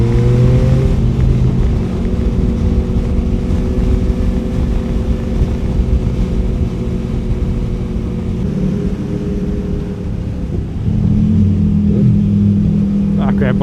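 Loud, steady engine drone of motorcycles at a large bike meet, including older V-twin bikes, filling the whole stretch with a constant roar that swells slightly near the end as people talk underneath.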